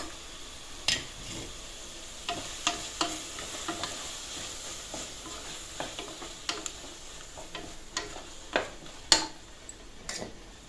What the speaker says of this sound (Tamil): வெங்காயம் தக்காளி இஞ்சி பூண்டு பேஸ்ட் நல்லா வதங்கிட்டு இருக்குது.